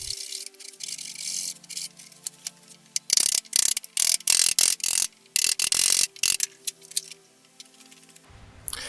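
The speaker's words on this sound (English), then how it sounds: "The power plug also requires some work with a chisel." Wood chiseling a cutout for a lamp's power plug in a live edge mirror frame: bursts of sharp, close taps and scraping cuts, dense in the middle, with quieter clicks and a low hum around them.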